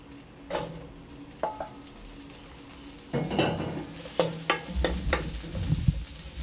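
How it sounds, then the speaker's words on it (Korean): Mushrooms and green onion stir-fried in a little cooking oil for japchae, with a steady sizzle under repeated scraping and clinking of a spatula against the pan, close and fairly loud. "버섯이나 대파부터 볶아주면 돼요"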